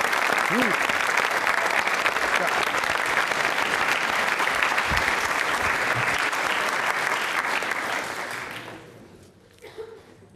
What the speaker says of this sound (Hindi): बजा दीजिए तालियां, जोरों से बजाइए, जोरों से बजाइए